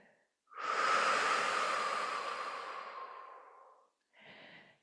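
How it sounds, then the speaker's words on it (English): A single long, airy exhale through the mouth during a guided relaxation breathing practice, steady and close, fading out before a brief second breath; no talking. "And exhale through the mouth."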